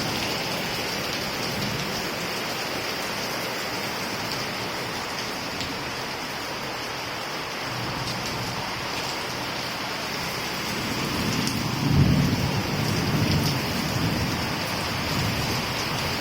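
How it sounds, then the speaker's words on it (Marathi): Heavy rain pours steadily in a dense, unbroken hiss, and a low rumble of thunder swells briefly partway through before the downpour carries on alone. "मोठा गडगडून असा पाऊस यायला लागला विजा वगैरे आहे"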